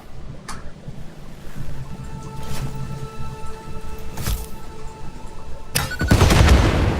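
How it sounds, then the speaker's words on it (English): Explosives going off in the video game Satisfactory: several sharp blasts and booms scattered over a rumbling background, the last and heaviest one near the end. "Then we can get out the explosives."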